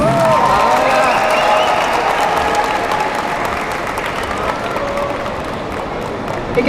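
An audience at a Malayalam film audio launch applauds loudly and steadily, the dense clapping of a crowd holding for several seconds with a slight fade.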